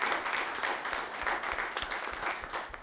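Audience applause at a live comedy show, steady dense clapping from a crowd filling the whole moment at moderate distance.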